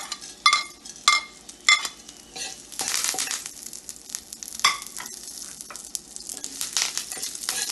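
Green chilli and curry leaves sizzle in hot oil in a pan while poha is prepared, a crackling hiss broken by a few sharp clinks of a spoon against the pan early on, then steady stirred frying up close.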